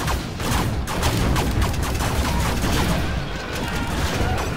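Laser Paladin tanks firing in Command and Conquer Generals Zero Hour produce a dense, loud barrage of crackling zaps and impacts, rapid and overlapping, with battle noise filling the background.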